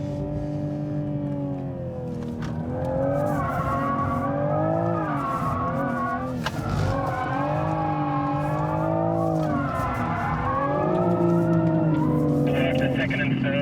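A Toyota Supra or Mercedes-AMG A45 drifting on a race track, engine revving loudly with sustained tire squeal as the car slides through linked drifts, continuous and close, with people talking over it.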